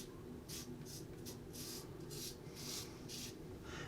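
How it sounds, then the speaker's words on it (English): A quad-blade Russian safety razor scrapes across lathered stubble in short, repeated rasping strokes, close but faint over a steady low background hum. "Let's give this razor a try."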